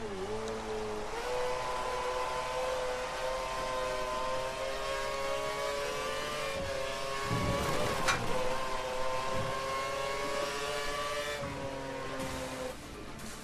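A Formula race car in an Xbox racing game, engine whining steadily through shifting gears for the whole stretch, with no talk over it.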